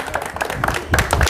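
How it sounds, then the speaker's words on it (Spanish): A small tour group in a cemetery breaks into brief, uneven applause, a few hands clapping in a scattered, close burst lasting about a second. "Aplausos espontáneos"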